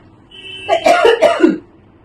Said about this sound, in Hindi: देर से खांसी आ रही है